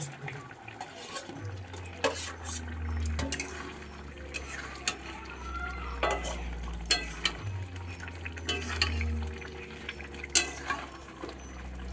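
Potatoes tumble into a pan of frying chicken and are stirred, a spoon scraping and clinking against the metal over a low sizzle, with sharp clatters recurring throughout and no talk.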